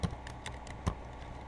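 A short burst of typing on a computer keyboard, a few quick key taps with one sharper strike near the end, close and fairly quiet.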